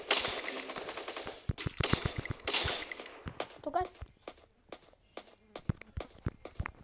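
Gunshots in the Free Fire video game: a rapid string of loud shots, then scattered single cracks and footsteps that thin out over several seconds, with no talk over them.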